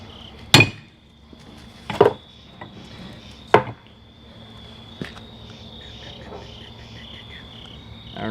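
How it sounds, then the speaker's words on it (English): Hammer blows on hot steel during forge welding of a ram's head, three sharp strikes spaced about a second and a half apart, then a lighter tap, over a steady high hum and low shop rumble. "Finally getting figured out how to forge weld."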